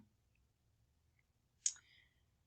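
A single crisp computer mouse click, close and quiet, standing alone in near silence.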